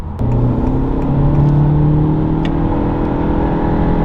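An 11th-generation Honda Civic engine with a PRL Stage 1 intake revs steadily and loudly, with a whooshing intake induction drone and rising whine held close throughout.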